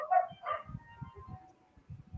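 Dogs barking at home, several quick yips and a whine at first, then a run of short, rhythmic low barks and muffled woofs close by.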